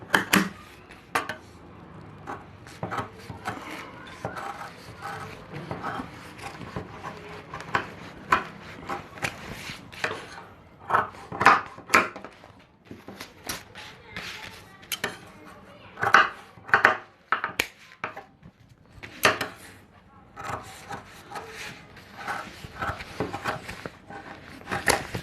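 Scissors snipping through fabric while cutting pieces for a homemade hand bag, with irregular close crisp snips and handling clatter spread throughout, no talking.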